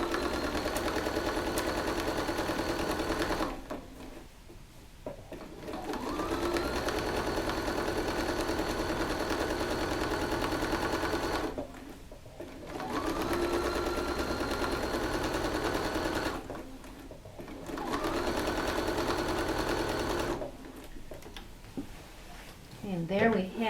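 A sewing machine stitches in the ditch along the center sashing of a quilt, running in several long steady bursts broken by brief pauses, close and fairly quiet.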